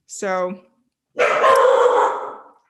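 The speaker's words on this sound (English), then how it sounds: "oh, sorry, that's my dog." A pet dog barks in a home during a conversation about working in Salesforce consulting. A short spoken word comes first, then a loud, dense stretch of barking that lasts more than a second.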